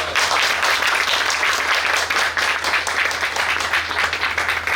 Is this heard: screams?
no